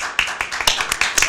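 A handful of people clap at a regular city commission meeting, with quick, fairly even claps that stay close and moderately loud and stop after about a second.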